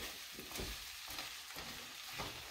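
Kale stuffing being stirred with seasoning in a pan, a steady low scraping and soft sizzling that repeats in slow strokes, close and even, with no voices.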